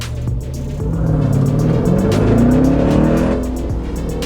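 A 2019 Jeep Grand Cherokee Trackhawk accelerates hard from close by, its engine rising in a loud, rough roar with tire squeal as it pulls away and the sound slowly fades.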